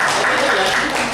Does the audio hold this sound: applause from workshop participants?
yes